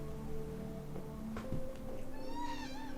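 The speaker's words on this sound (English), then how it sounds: "Kitty, why are you meowing?" A house cat meows near the end with a rising, wavering call, sounding over a steady background hum with a faint tone.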